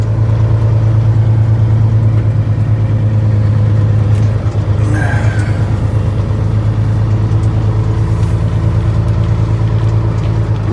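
A big truck idles and creeps along while turning around in a tight spot, a steady close diesel drone with a low hum running throughout and a brief shift in tone midway.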